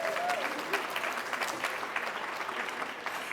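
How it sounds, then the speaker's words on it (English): An audience at a conference welcome session breaks into applause, a dense even clatter of many hands clapping together for a few seconds. "let's give that a round of applause"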